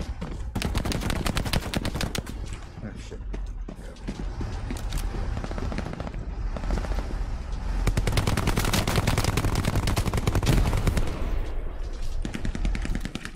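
Rapid SMG and machine gun fire in a video game, loud and continuous, with dense bursts of shots throughout and a brief lull in the middle before the firing intensifies again.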